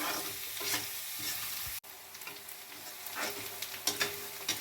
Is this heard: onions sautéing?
yes